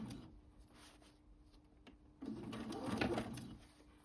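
Sewing machine stitching tote bag fabric at 2.5 stitch length, back stitching then going forward, a soft quick mechanical whir that picks up and grows louder partway through.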